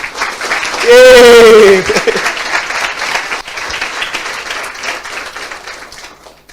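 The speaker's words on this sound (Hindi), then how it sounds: "आइए खुद के लिए ताली बजाइए।" Church congregation clapping during a Hindi sermon: a short, loud burst of applause follows a preacher's raised voice, then fades under continued talking.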